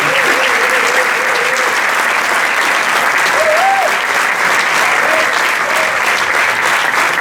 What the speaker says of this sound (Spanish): Mira que anava a començar per demanar un aplaudiment al Gus i a l'Aina.